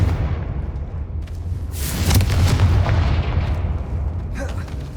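A Confringo blast spell goes off in the video game Hogwarts Legacy, a loud, close booming burst that swells in the middle and rolls into a rumbling, crackling tail.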